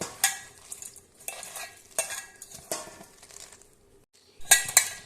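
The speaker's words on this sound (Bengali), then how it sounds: "এবার এটাকে ভালোভাবে হাতের সাহায্যে চটকে নিতে হবে" Cooked lentils and Malabar spinach being mashed and kneaded by hand in a bowl, giving wet, squelching pushes in uneven bursts with short pauses between them, close and fairly quiet.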